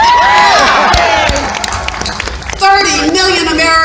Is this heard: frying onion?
no